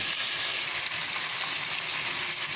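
Tomatoes sautéing in a frying pan with softened onions for a liver gravy, giving a steady, close, dense sizzle and crackle throughout with no talking.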